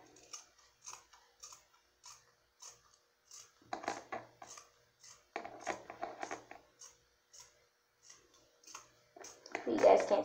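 Scissors cutting into a shirt to make a fringe top, a run of close, crisp snipping clicks in an irregular rhythm that cluster into denser bursts, with some handling noise.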